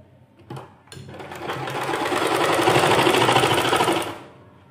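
A sewing machine stitches along a folded hem on a pair of trousers, its rapid needle chatter starting after a brief bump, building to a steady close whir for about three seconds, then stopping.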